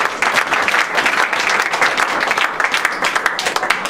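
Church congregation applauding during a sermon, a dense, steady wash of clapping from many hands that holds loud and continuous throughout, with no voices rising above it.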